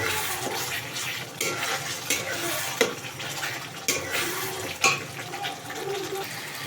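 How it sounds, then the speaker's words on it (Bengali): Potatoes dropped into a hot pan of oil for a pabda fish curry, giving a continuous loud sizzle with several sharp clatters and scrapes as they are stirred. "আমি এবার আলুগুলোকে ছাড়ব।"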